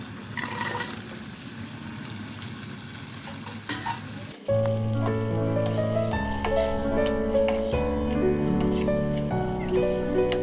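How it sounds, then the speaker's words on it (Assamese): Fried chicken pieces dropped into hot chili chicken gravy sizzle and get stirred. A low, quiet sizzle runs first, then a sudden louder burst of frying. Steady, close bubbling and scraping follow until the end. "এতিয়া মই ইয়াত ভাজি থোৱা মাংসখিনি দি দিম।"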